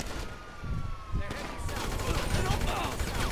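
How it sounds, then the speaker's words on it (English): Gunfire in GTA V as Franklin shoots at police officers: a dense burst of rapid shots builds over a wailing police siren, with a voice speaking underneath. "Franklin just unloaded a bunch of bullets into some police officers trying to stop him from his heinous crimes"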